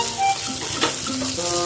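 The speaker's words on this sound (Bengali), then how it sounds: "পেঁয়াজটা একটু ভাজা ভাজা করে নেব।" Chopped onions sizzling in a pan alongside frying brinjal, with a steady crackling hiss and a stir in the middle, while faint tonal background sounds run underneath.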